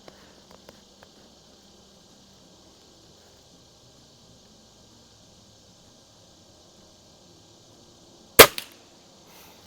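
A Cometa 300 air rifle fires one sharp, loud shot near the end, preceded by a long near-silent stretch with a few faint clicks.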